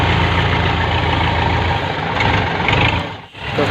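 A tractor engine runs close by with a loud, steady low diesel throb and rumble, dipping briefly near the end before picking up again.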